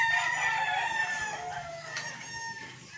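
Chickens and chicks on a farm in Candelaria, Quezon, with clucking and crowing hens or roosters up close and peeping chicks mixed in, a busy, overlapping chorus of calls.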